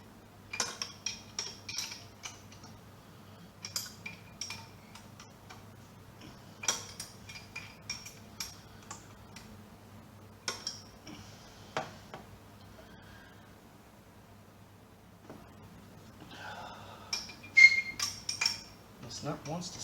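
Manifold studs come out of an engine in a garage with light metallic clinks and taps from tools and loose parts. They sound in scattered clusters with quiet pauses over a low, steady hum.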